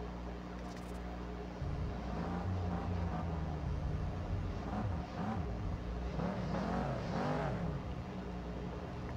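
A race car in Need for Speed No Limits launches and accelerates in a rush hour race, a steady engine drone rising into swooping revs and gear changes, moderately loud and unbroken for about nine seconds.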